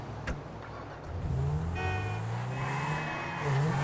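A car driving in GTA 5 Online, its engine humming and revving steadily with rising tones as it accelerates, game sounds layered underneath.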